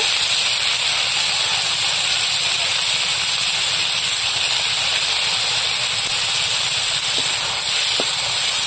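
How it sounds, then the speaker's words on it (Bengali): Dried shrimp frying in oil with onion, salt and turmeric in a pan, a loud continuous sizzling hiss close by with faint occasional pops. "লবণ হলুদ দিয়ে চিংড়িটা একটু ভেজে নেব।"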